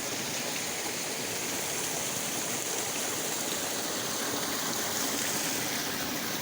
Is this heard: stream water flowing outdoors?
yes